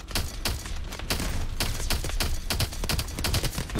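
Gunfire in Call of Duty Advanced Warfare, loud bursts of rapid automatic shots and heavy weapon fire in close succession with a dense battle din throughout, no talking.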